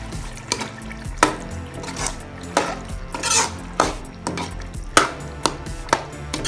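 Boiled chana dal mixed into cooked pumpkin in a pot. A spoon stirs with a run of sharp, irregular clinks and scrapes against the metal, fairly close and loud.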